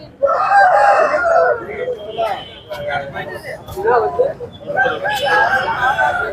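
Roosters crow and hens cluck at the busy, crowded Nangavalli country-chicken market, with several birds calling close by over steady background noise.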